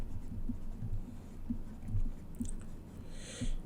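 Marker or chalk scratching on a board in short, soft strokes with small taps between them, close but quiet over a faint room hum.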